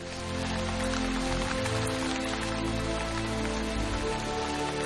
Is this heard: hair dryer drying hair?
no